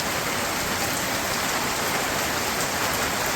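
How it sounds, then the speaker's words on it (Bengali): Light village rain pattering steadily on surfaces close by, a dense even hiss of drops with no voices. "এই যে দু এক ফোঁটা করে পড়ে এটা শেষরা বৃষ্টি করে যাবে"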